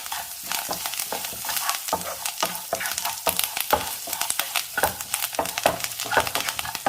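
Ginger, green chilli and curry leaves fry in hot oil with a bright crackling sizzle, broken up by frequent scraping strokes of a spoon stirring the pan, close and busy throughout.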